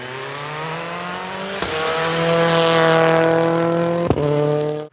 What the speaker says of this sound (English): the car is taken for a mechanical shakedown on the Highlands Motorsport Park racetrack